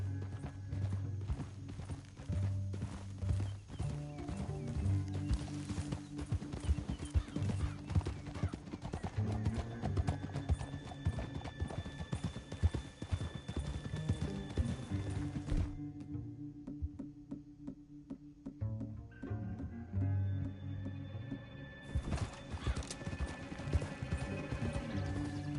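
Horse hooves clip-clop at a steady gallop in the Red Dead Redemption video game, a dense rhythmic pounding joined by an occasional whinny and low rumbling game sounds, with no voices.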